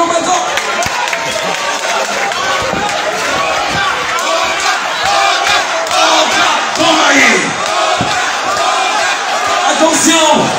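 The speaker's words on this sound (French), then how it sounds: "Est-ce qu'on peut applaudir pour les combattants?" A crowd at a fight event in Yaoundé cheers and applauds for the fighters, a loud continuous roar of voices and clapping with shouts rising above it throughout.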